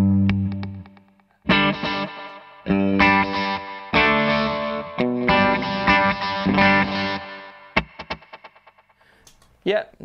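Electric guitar plays phrases in bursts through a multi-head echo delay pedal, each followed by repeating echoes that trail off, with gaps of near silence and a few scattered notes at the end.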